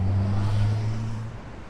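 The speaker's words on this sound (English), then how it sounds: "You could just sit down here and watch the traffic go by" Steady city street traffic rumbling past in Rio de Janeiro, a continuous low engine drone from nearby cars that holds loud and then eases slightly toward the end, with no talking.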